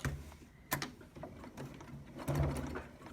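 A sewing machine stitches elastic onto a fabric face mask in short mechanical bursts, close and fairly quiet, with brief pauses and a clack between runs.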